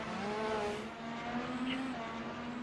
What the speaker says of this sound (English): There goes another car around.